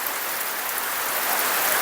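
Steady rain falls close by, a dense continuous hiss of drops on surfaces that holds even and unbroken throughout, with no voices.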